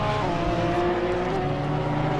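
A Porsche race car at Monza in a sim racing series, its engine a loud, steady high-revving drone with a slight pitch shift as it passes close by.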